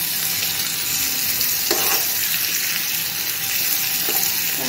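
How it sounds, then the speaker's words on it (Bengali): Shrimp sizzle steadily in a hot pan, a constant close frying hiss running throughout with a couple of brief spatula scrapes and no talking. "চিংড়ি মাছগুলো 1 মিনিট মতো ভাজা হয়ে গেলে"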